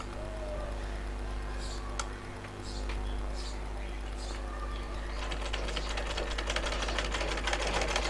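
A sewing machine stitching a tuck seam on a blouse starts up after a quiet pause and runs in a fast, even mechanical patter over a low motor hum, close and moderately quiet.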